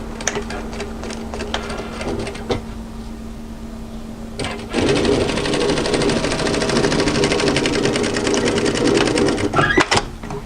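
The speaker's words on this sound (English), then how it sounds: "at the side seams we're going to sew a 1 centimetre seam allowance" Sewing machine stitching a 1 cm side seam on a V-neck camisole, a steady close mechanical whir that runs continuously for several seconds after a few quieter stitches and brief handling sounds.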